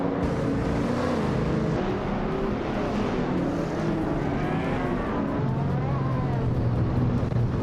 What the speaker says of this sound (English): Rusnapalm 6 is starting on pole, zooming in an iconic 2013 Ferrari 458 Special Data